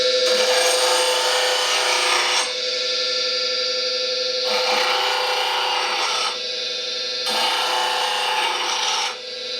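Woodturning gouge bevel being ground on a bench grinder, a steady loud rasping hiss that comes in three long passes separated by brief lulls, with no talking.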